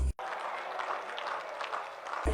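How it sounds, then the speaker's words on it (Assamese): A crowd at a 2021 Assam election rally addressed by Prime Minister Narendra Modi claps steadily, a broad, even wash of applause that continues without pause for a couple of seconds. "মোদীৰ এই ক্ষোভিত ভাষণ শুনি হাত চাপৰি বজালে ৰাইজে"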